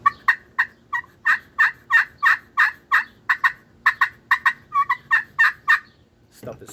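A turkey friction call scratched with a soft wood striker gives a rapid run of clucking yelps, about twenty short bursts in a steady rhythm, close and loud, ending with a clunk.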